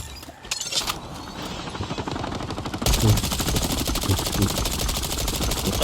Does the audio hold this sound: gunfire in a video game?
yes